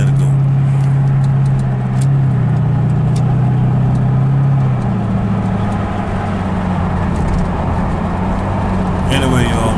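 A car engine runs steadily while driving on the way to get a flat front tire repaired, a loud mid-pitched hum that rises and shifts through gear changes, with a brief clatter near the end.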